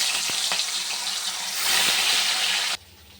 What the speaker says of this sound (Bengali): তেল বসিয়ে দিয়েছি মাছটাকে ভেজে নিই